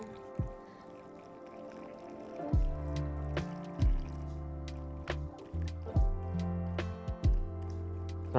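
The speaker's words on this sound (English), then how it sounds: "I'm gonna pour it down the side so that it runs underneath everything." Broth with small chunks is poured down the side of a cooking pot, giving soft liquid splashes and drips with a few wet squishes, quiet and close, with no talking.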